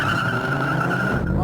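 Shelby Cobra and Dodge Viper launching side by side in a drag race, a loud roaring engine blast with squealing tires, close and continuous.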